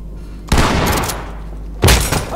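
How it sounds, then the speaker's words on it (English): Two loud, close shotgun blasts in a tactical police shooter game, a sharp report about a second apart followed by a brief rumbling tail. "Blow it with the shotgun."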